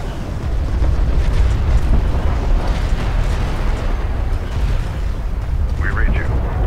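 Artillery fire support in Deserts of Kharak pounds a marked position with a dense, sustained roar of explosions and booms, loud and close, with radio chatter briefly over the barrage.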